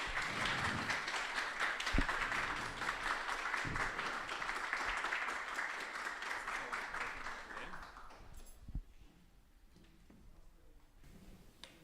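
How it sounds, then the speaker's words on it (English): Audience at a climate accelerator demo day applauding a speaker, a steady round of clapping from a sizable crowd that fades out after about eight seconds into quieter room noise. "we should welcome Dani with a round of applause"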